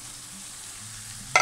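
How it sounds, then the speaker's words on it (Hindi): Mixed vegetables, including chopped cabbage, in a pan for cheesy white sauce macaroni: a faint, steady background sizzle, then a sudden loud burst of frying in the last moments. "वेजिटेबल्स को हम अच्छी तरह फ्राई कर लेंगे।"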